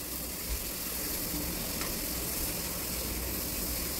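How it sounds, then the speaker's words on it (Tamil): Tomatoes sauté in a pan over medium flame for chana masala with a steady, even sizzle and hiss throughout, no voices. "தக்காளி சேர்த்து நல்லா வதக்கி கொடுங்க."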